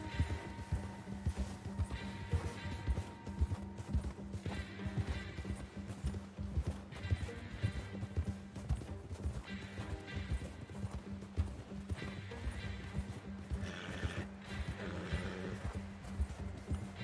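Steady clip-clop of galloping horse hooves with an occasional whinny over continuous game music and ambient noise in Red Dead Redemption 2.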